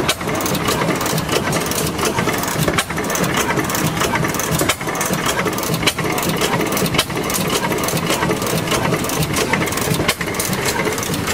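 An antique 3-horsepower flywheel engine made in Stockton, California runs on propane at a tractor festival, chugging steadily and loudly with regular sharp firing beats close by.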